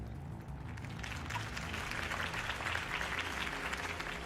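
Crowd applause after a campaign speech in a Batman video game, a steady wash of clapping at moderate distance over a low in-game musical drone.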